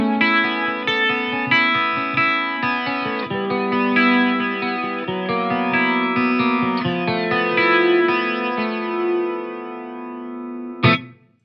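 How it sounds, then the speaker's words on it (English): Clean guitar tone played through the flange setting of a Fender Champion 100XL amp, a sweeping, swirling chord sequence, loud and alone, ending with a sharp final strum. "then we have flange in position 3"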